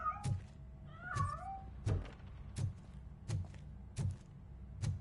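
A cat in a video game meows repeatedly in short, evenly spaced calls, each paired with a soft thump, fairly close and clear with no talking.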